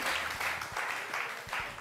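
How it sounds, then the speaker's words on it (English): Brief burst of audience clapping on a Nigerian entertainment talk show, steady and fairly close, lasting under two seconds with little talk over it. "I'm gonna clap for them."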